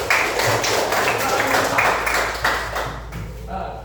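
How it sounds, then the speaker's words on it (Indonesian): Children in a classroom clap their hands together in a steady burst, fairly close and loud, fading out toward the end. "tepuk tangan dulu ayah"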